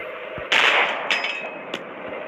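Tank cannon fire during a one-on-one tank battle in the video game Polyfield: a sharp, loud blast followed by a couple of smaller cracking impacts over a faint background hum.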